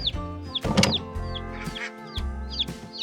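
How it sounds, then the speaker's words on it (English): Baby chicks peep in high, sharp repeated chirps close by, mixed with lower clucks from chickens in a busy, irregular rhythm. "Our 2 baby chickies."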